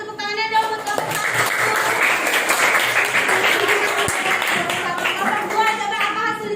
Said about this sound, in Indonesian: Tepuk tangannya dong buat kelompok 1.